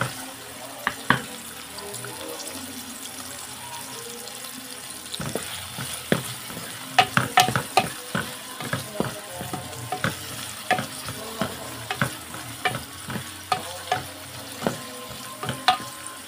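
Tomatoes sauté in a pan, giving a constant sizzle under a run of sharp, irregular clacks as a utensil stirs and scrapes them, with no talking.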